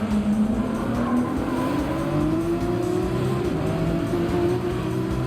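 A race car in Gran Turismo 7 roars through a rainy Dragon Trail Gardens circuit, its engine note sliding in pitch as it brakes, with tyre hiss underneath, loud and continuous.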